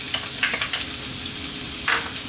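Garlic sizzles in cooking oil in a wok, a close continuous frying hiss with occasional sharper crackles and stirring scrapes.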